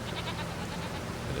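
Goats bleat faintly and steadily in a Farming Simulator 25 enclosure, blended into a constant wash of low background noise with no voices.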